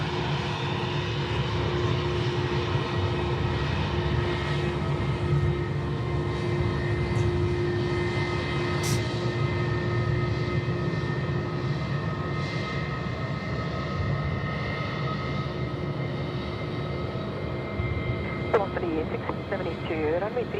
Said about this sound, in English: The Jetstar 320 here coming past us on Charlie in front of Shep's Mound.